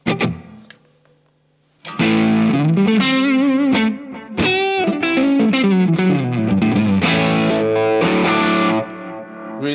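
A distorted electric guitar through a Matribox II modeling multi-effect pedal with reverb plays a run of sustained notes and chords with a lush, washy effect. A few quiet plucks come first.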